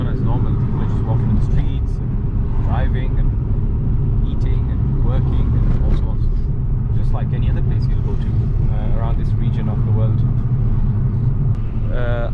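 Busy street traffic in Mosul, Iraq, near a taxi station: a constant loud rumble of cars and engines with scattered horn-like tones, and voices talking over it throughout.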